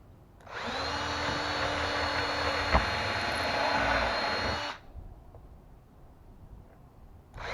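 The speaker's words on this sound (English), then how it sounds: "we're going to go ahead and make a few more pilot holes for it" A power drill boring pilot holes in wood for a homemade gun rack whirs loudly and steadily for about four seconds close by, then stops, with a second burst starting right at the end.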